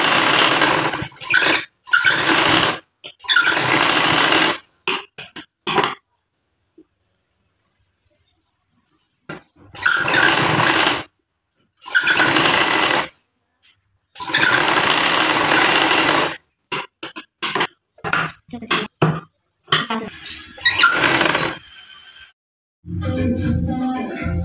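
A sewing machine stitches a boutique-style blouse in short, start-stop bursts of whirring, with runs of varying length separated by abrupt silences as the fabric is turned.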